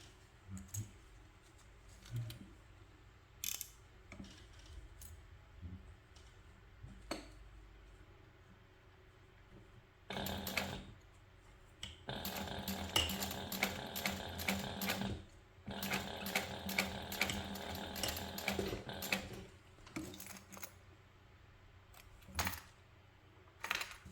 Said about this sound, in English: now we're going to top stitch this using a 1/8 inch seam allowance